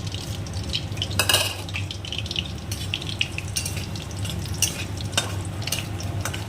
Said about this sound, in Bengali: ফোড়নটাকে একটু সময় ধরে ভালো করে একটু ভেজে নেব